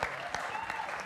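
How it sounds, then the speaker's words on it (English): Audience applause at a panel event on content creation and voiceover, fairly faint and distant clapping with a voice and tonal sounds over it. "Please keep clapping for him."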